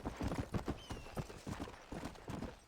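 Horse hooves clip-clop in Red Dead Redemption, a brisk, continuous run of close, punchy hoofbeats that fills the short stretch with no talk.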